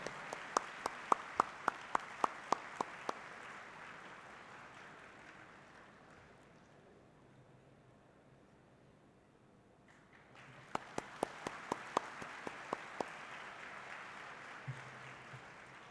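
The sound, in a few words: audience applause after a memento presentation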